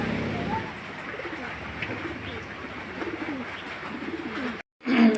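Pigeons coo softly and continuously amid a busy background murmur on a pigeon farm, with a brief dropout near the end before a louder burst.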